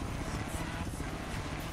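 A helicopter in the Forza Horizon racing game, a steady droning rotor-and-engine hum that fills the whole moment without a break, loud and constant with no talk over it.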